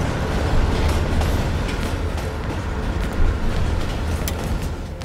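A train in Call of Duty Black Ops Cold War rumbles steadily along the track, a dense, loud, continuous low roar with faint clanks and rattles, no voices.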